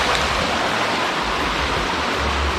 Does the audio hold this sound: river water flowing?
yes